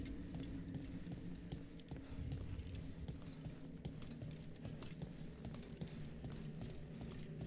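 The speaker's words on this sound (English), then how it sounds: "All I can hear is Nev's footsteps behind us" Companion Neve's footsteps clink behind the party in Dragon Age: The Veilguard, a quick, steady series of light metallic steps repeating under a continuous low background of game ambience.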